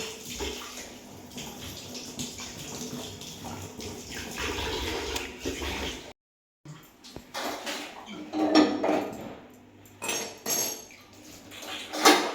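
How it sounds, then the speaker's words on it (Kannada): Water is splashed and poured during household washing with soapy water, giving intermittent sloshes and splashes mixed with clanking of metal pots and vessels, with occasional short pauses. "ಆಯ್ತು ಆಯ್ತಪ್ಪ ನೀರು ಹಾಕೋದು ಸಾಕಾಗಿ."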